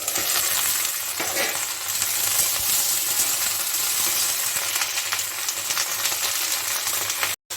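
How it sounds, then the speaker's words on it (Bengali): Okra (bhindi) frying on high heat in a pan, a loud continuous sizzle with light stirring clinks and a faint low hum underneath, close up with no talking. "আমি একটু হাই হিটেই ভাজবো নইলে ইয়াটা পিছতে পিস্তে হয়ে যাবে ঢেঁড়সটা জল ছেড়ে দিলে"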